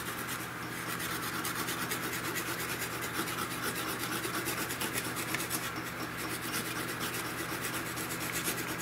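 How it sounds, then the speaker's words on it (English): A Scotch-Brite pad scuffs steadily across a fuse from an arcade monitor repair, a continuous close rasping rub with a fast scratchy texture that keeps going without a break. "I take a Scotch-Brite pad, and I take the fuse,"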